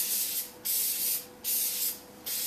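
An aerosol spray can applying paint coats to an RC4WD Trail Finder 2 body, producing three close, loud hissing bursts separated by brief pauses.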